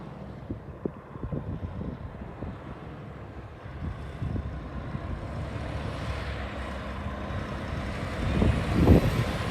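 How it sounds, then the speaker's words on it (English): Heavy truck slowing under air brakes during a safety demonstration, engine rumble and road noise building to a hissing brake release near the end. "that's when I'm gonna hit the brakes."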